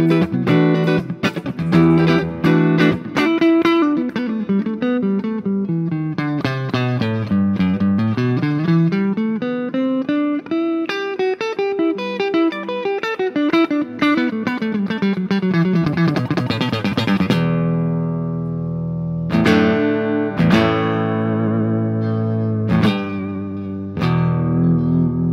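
A Telecaster electric guitar with P90 pickups, played on the neck pickup through effects, rings out in loud sustained notes with sweeping pitch bends and slides. A heavy chord follows at the end, with continuous reverb-soaked sustain throughout.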